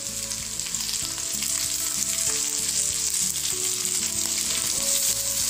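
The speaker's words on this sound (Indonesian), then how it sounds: "Ini digoreng sampai pete matang." Petai stink beans frying with bird's eye and red chilies, a loud, steady sizzle with crackling spatter and low clattering stirring knocks running throughout, no voices.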